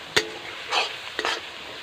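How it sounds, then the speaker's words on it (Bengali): Garlic and onion are stirred and fried in a pan for chicken kosha: three short, close scraping stirs over a faint, steady sizzle. "এই যে কিছুক্ষণ ধরে একটু রসুনটা আর পেঁয়াজটা আবারও ভেজে নিচ্ছি"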